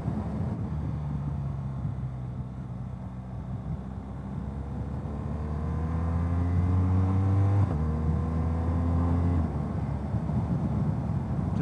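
A BMW R1200RS motorcycle engine runs steadily and loud, its tone rising through several clutchless upshifts with wind rush over the microphone.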